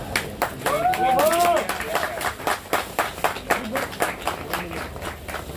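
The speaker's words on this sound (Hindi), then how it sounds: "तालियां बजनी चाहिए भाई" Audience applause at a song launch event, sharp individual claps rising into a burst of clapping with a voice shouting over it, then thinning into scattered, rhythmic hand claps that keep going.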